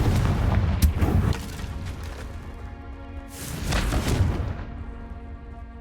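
Two heavy booming blasts from the Confringo spell in Hogwarts Legacy, one near the start and another a little after three seconds, each with a long rumbling tail that fades into quiet.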